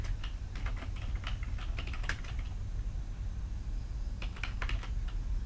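HTML code being typed on a computer keyboard, runs of soft rapid keystrokes over a low steady room hum, pausing midway before a second short burst.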